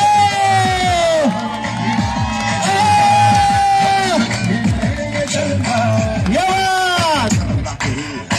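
Large crowd at a Ganesh festival event cheering and yelling loudly, sustained whoops and shouts from many voices, close and continuous throughout.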